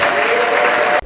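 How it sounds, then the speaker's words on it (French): An audience at a swearing-in ceremony for new court officials in Butembo applauds in a brief, loud, steady wash of clapping that cuts off abruptly. "Des applaudissements de la part des participants pour saluer cette prestation de serment"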